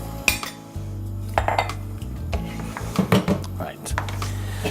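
A lid clatters onto a pot of pork braised in cider and spices, with clinks and knocks of metal cookware standing out sharply close by over a low hum, while a person talks.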